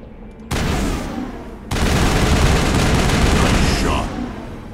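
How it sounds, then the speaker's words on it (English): Pistol fire aimed at monkeys in the Mass Effect video game, a dense, loud burst of gunfire and crackling blasts starting abruptly, then swelling into a sustained roar of shots and impacts that fades near the end. "Now I'm using a pistol for some reason. Does not mean that you can't shoot them."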